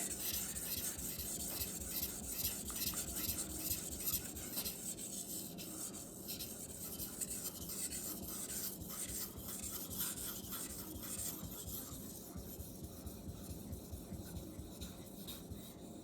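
Messermeister Meridian Elite knife sharpened on whetstones, a close continuous rhythmic grinding rasp of rapid back-and-forth strokes, steady and moderately quiet throughout.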